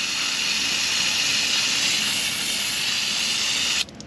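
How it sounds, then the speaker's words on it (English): Brake cleaner hissing from an aerosol can onto parts of a 1964 Honda C200 90cc motorcycle, one steady close spray for several seconds, then cutting off abruptly. "let's hose this out. Some brake clean."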